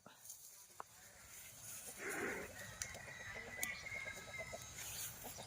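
Chickens cluck in short repeated pulses while foraging on a misty rural morning, a soft, fairly distant pecking chatter under faint voices and outdoor ambience.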